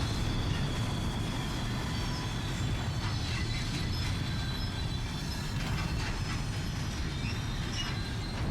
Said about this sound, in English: Trains.